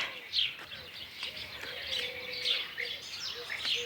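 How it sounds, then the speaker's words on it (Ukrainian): Birds sing outdoors in a garden setting, with repeated bright chirps and short tweets scattered over a soft, steady background, moderately distant and fairly quiet, with no talking. "спів пташок."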